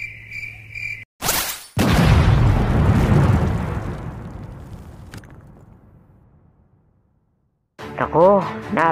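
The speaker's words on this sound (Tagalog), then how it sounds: "Nako, napalakas ang pagsabog." Crickets chirp, then a sudden loud explosion booms and its rumble slowly fades to silence before a voice speaks.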